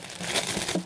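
Wrapping rustles and crinkles as a scarf is unpacked, with a steady, close, busy crackle of paper or plastic and no voices.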